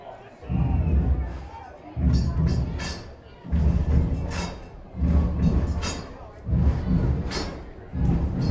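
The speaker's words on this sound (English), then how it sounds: "This well-filled out crowd at Groudon Field starting to get loud in a pivotal moment" Spectators at Growden Field during an Alaska Goldpanners baseball game pound out a loud, rhythmic series of heavy thumps about every second and a half, with crowd noise swelling behind a talking announcer.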